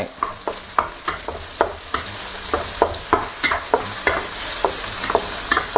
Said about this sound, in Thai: ผัดให้มีกลิ่นหอม ใครชอบเผ็ดมากก็เพิ่มพริกได้